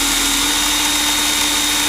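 A power tool whirs steadily as it reams the primer pocket of a brass cartridge case, giving a loud, constant mechanical hum with no pauses and no talking.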